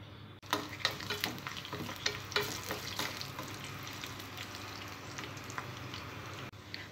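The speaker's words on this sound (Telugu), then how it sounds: "తాలింపు ఫ్రై అయిన తర్వాత మనం ముందుగా నూరుకున్న పచ్చడి వేసుకోవాలి." Tempering seeds, garlic and dry red chillies fry in hot oil in a pan on a stove, giving a steady crackling sizzle with stirring, close and alone.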